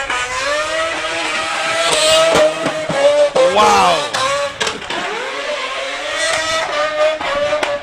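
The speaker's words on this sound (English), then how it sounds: "This car is absolutely just ignorant in how it sounds." Drift car engine revving hard at Mondello Park, a loud, harsh, high-pitched scream with rising and falling pitch sweeps as it passes close, with a brief exclamation from someone over the noise.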